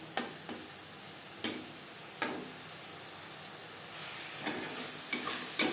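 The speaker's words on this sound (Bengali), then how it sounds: "নাড়াচাড়া করে ড্রাই করে নেব প্রথম প্রথম পাঁচ মিনিট রান্না করব হাই ফ্লেমে" Ghatkol leaf and stem paste cooks in a pan over a high gas flame with a soft constant sizzle, and a spatula stirs it in occasional sharp scraping taps, all heard close and quiet.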